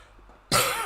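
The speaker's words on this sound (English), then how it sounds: "I got like a really serious coughing for a week now" A single sharp, loud cough bursts out after a half-second of near silence, harsh and close, from someone still recovering from a week-long illness.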